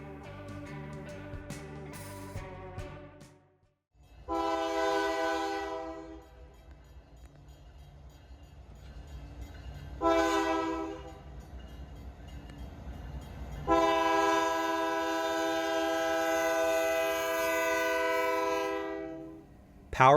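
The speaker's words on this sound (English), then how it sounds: "Power was a mix of the two railroads that now make up CPKC, with the CP AC 4400 leading a KCS ES 44." A freight train led by a CP AC4400 with a KCS ES44 sounds its horn in three long blasts, the loud chords rising over a low rumble of rolling cars.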